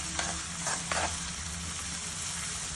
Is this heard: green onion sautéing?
yes